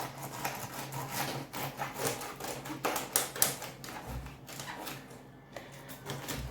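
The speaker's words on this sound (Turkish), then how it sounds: "Hemen şimdi bıçağımı alıyorum. Şu şekilde tepelerini kesiyorum." A knife slicing the tops off artichokes in a home kitchen, giving a run of quick tapping and crunching cuts at a moderate, uneven rhythm, close and fairly quiet.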